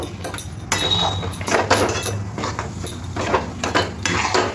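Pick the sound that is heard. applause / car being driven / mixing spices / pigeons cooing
mixing spices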